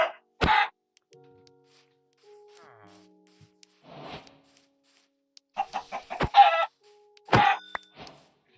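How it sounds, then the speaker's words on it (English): Clucks from a chicken in a video game come in brief, scattered bursts separated by near silence, with a few faint soft clicks between them. "the chicken."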